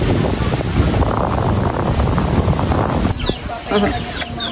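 Heavy wind at a fish pond roars against the microphone, then drops away to reveal a few short chicken clucks close by.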